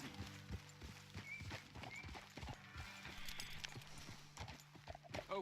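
Horses in the Red Dead Redemption 2 video game walk with a steady clip-clop of hooves and give a couple of brief snorts and whinnies, faint and close, with no talking.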